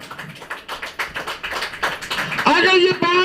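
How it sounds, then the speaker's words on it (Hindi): A church congregation claps together in quick, steady rhythm, many hands at once, before a voice rises over the applause near the end. "ताली बजाइए।"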